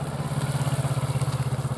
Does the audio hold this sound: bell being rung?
no